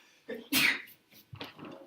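A sneeze in a classroom, one sharp burst with a short breathy intake before it, followed by faint murmuring voices nearby.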